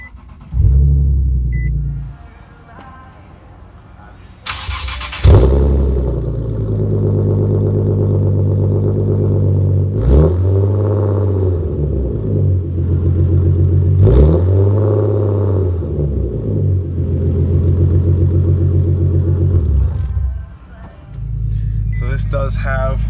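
2016 Nissan 370Z with a manual gearbox and rear-wheel drive, its engine cranking and starting at about five seconds, then settling into a loud, steady idle. A few short blips of revs rise and fall before it drops back to the idle.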